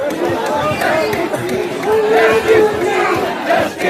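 A dense crowd of protesters near the stage at Jantar Mantar, many voices chattering and shouting at once, close and loud without pause.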